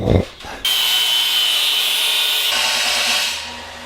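A power sander grinds a metal car part for a turbocharged K24-swapped MR2, a loud steady high-pitched whir after a brief knock, then winding down near the end.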